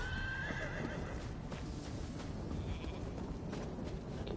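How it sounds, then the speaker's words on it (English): Horses in the video game Elder Scrolls Online neigh and whinny loudly over a steady background, with faint hoof clip-clop mixed in. "Loudest horses."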